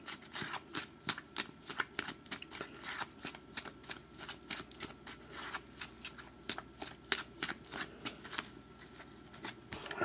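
A deck of trading cards being cut and riffle-shuffled by hand at a box break, a steady rapid flutter of card snaps running throughout, close and fairly loud with no voices.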